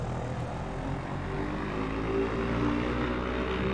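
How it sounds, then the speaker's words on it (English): A seaplane's propeller engine drones steadily and loudly during a takeoff run on a lake near Madisonville, Louisiana, a continuous low rumble with a faint rising whine and no talking. "This plane sometimes needs a little bit more room to take off compared to a lot of the stall planes I've been flying."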